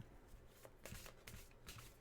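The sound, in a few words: shuffling a tarot card deck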